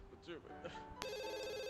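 A telephone in the video game The Sims 2 starts ringing with a sharp electronic trill that holds steady and fairly loud after some brief chirpy game sounds.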